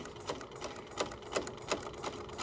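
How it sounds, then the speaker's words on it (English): A sewing machine stitching webbing casing at a quarter-inch seam, running in a steady rhythm of sharp clicks and needle strikes at a slow, even pace, close and fairly quiet. "And now I'm sewing forward one more time, always at a 1/4 inch seam allowance."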